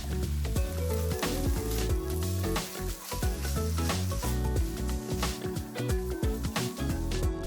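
Beaten eggs frying in a pan with canned tuna, a soft sizzle running throughout with clinks and scraping of a utensil against the pan.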